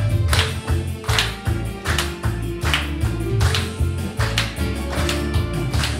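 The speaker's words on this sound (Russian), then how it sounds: "вот здесь место для аплодисментов как раз" Audience clapping along in rhythm during a live performance of a Russian romantic song, regular beats over loud music with bass and guitar, close and prominent.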